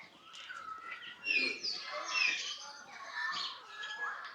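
Several birds chirp and call in a wildlife park aviary, with overlapping high tweets and whistles at moderate distance; people talk faintly in the background.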